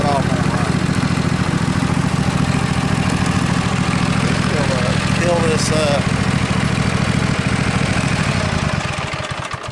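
Husqvarna Z254 zero-turn mower engine running at a steady loud idle for nearly ten seconds, close by, with someone talking over it.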